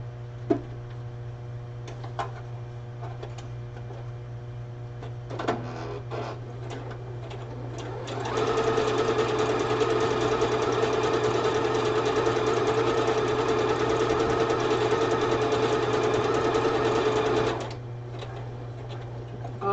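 A sewing machine stitches a headdress in one loud, steady run of fast mechanical whirring lasting about nine seconds, with quieter handling clicks and taps before and after and a constant low hum beneath.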